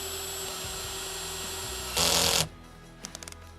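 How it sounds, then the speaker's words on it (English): A cordless drill bores holes into a dog toy in one short, loud burst of roughly half a second, with a steady motor hum before it and a few faint clicks after. "we then just need to take our drill and we need to drill a few holes"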